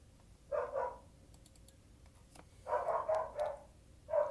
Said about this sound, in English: I've got dogs barking.